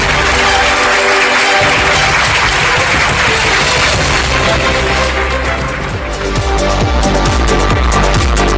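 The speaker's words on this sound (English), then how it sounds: "Let that applause continue." Audience applause at an award ceremony honoring influential women, loud sustained clapping from a large crowd filling the whole stretch with steady density.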